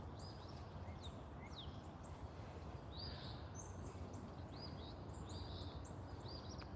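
Small birds at a backyard bird feeder give scattered high chirps and short trills, faint and somewhat distant over a steady outdoor hiss.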